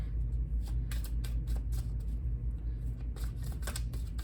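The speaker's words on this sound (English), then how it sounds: "But I want to shuffle here while I'm with you so you can see" Tarot card decks shuffled close by, a steady stream of soft riffling flicks and taps over a constant low hum.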